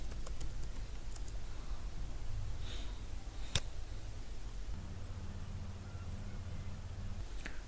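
Typing on a computer keyboard while setting up a MikroTik router: scattered soft key clicks and short bursts of keystrokes, close and fairly quiet, over a low steady room hum.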